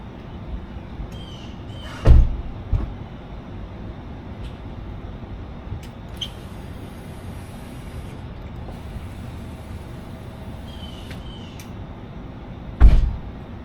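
A power window regulator and motor drive a car door window, a low steady motor whir running under two sharp thumps as the glass stops at each end of its travel.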